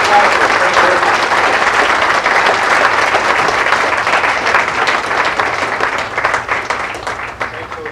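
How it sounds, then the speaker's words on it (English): Dense, sustained audience applause for graduates at a June 2009 graduation ceremony, loud and steady throughout before thinning slightly near the end, with faint voices mixed in. "Please join me in giving them a round of applause."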